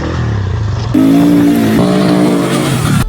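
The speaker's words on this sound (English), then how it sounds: "Full throttle, Craig!" A KTM 450 enduro motorcycle at full throttle off road in Morocco, roaring loud and close as the revs jump sharply and hold high, with rough wind buffeting.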